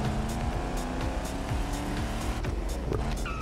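A Pontiac's engine in the racing game The Crew Motorfest roars steadily up close, its revs climbing and dropping through gear changes, with faint tire squeal now and then.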